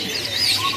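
Caged birds at a kiosk in a bird market, chirping and cooing together in a brief, close, dense burst.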